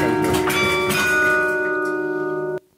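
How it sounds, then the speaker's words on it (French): Several bells ring out together with rich sustained harmonics, loud and resonant, their overtones decaying gradually before cutting off abruptly near the end, with no talking over them. "Les harmoniques qui vont être générées par toutes ces cloches là dans la vidéo qu'on a passée tout à l'heure"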